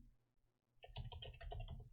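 Quick clicks of typing on a computer keyboard, a soft close burst of keystrokes that starts after a brief quiet moment and runs to the end.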